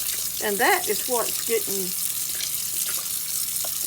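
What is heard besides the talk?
rinsing baking soda cleaner out of a kitchen sink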